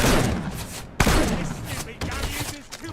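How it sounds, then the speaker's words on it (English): Rapid rifle fire at zombies in the survival game Pioner, a dense burst of loud gunshots with sharp reports roughly every second, layered over continuous crackling game noise. "I'm going to shoot them with my rifle."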